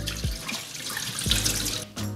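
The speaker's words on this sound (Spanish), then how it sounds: "Así que le desechamos el agua" Rinse water is poured off basmati rice, making a continuous splashing, gurgling flow with a few soft thuds, fairly close and moderately loud, with no talking.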